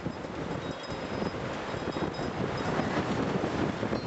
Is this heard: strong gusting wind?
yes